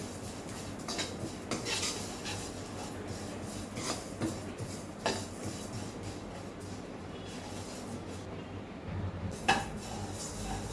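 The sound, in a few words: stirring sesame seeds in a hot pan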